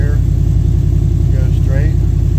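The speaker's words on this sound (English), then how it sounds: "I'll give her a little throttle" An old Mopar car engine running loud and close with a steady low rumble; any throttle blip is slight, and a voice is faintly heard over it.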